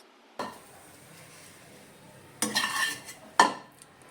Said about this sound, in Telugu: ఇప్పుడు బెండకాయల్ని ఒక కడాయిలో వేసి వేయించుకుందామండి